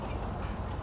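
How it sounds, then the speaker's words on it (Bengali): A 240-horsepower ferry diesel engine runs with a dense, steady low rumble, close and continuous through the short moment, with no voices over it. "এটা হচ্ছে ফেরির ইঞ্জিন।"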